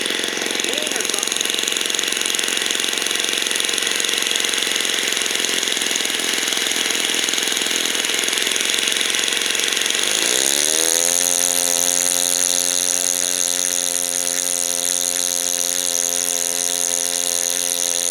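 A 50-plus-year-old Falcon 56 RC airplane engine runs loud and close with no muffler and a loose exhaust, buzzing with a raspy chatter, then settling midway into a lower, steadier harmonic drone; a voice speaks briefly over it.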